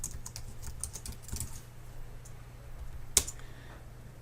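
Fingers type an email address on a computer keyboard, a quick, irregular run of light key clicks close by, with a louder keystroke near the end over a faint low hum.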